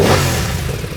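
A BMW F 900 R motorcycle engine runs loud and close, holding a rough revving note that eases off slightly over a second.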